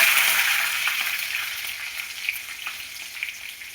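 Cumin seeds, two dried red chillies and curry leaves crackle and sizzle steadily in hot sesame oil, a close, continuous frying hiss with small pops scattered through it and no voices.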